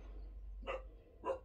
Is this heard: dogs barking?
yes